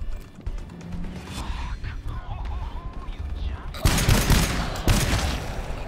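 Gunfire in the video game Valorant crackles in bursts, with louder volleys toward the end, while players talk over it.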